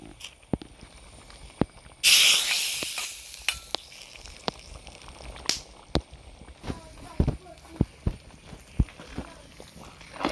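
Mustard seeds and curry leaves hit hot coconut oil for a Kerala erissery, bursting into a loud sizzle that then settles into quieter crackling, with scattered pops and clinks of a utensil.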